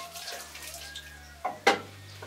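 Water is poured into a pot of fried meat and onions in a quick splashing burst near the end, over a low steady hum and faint background noise.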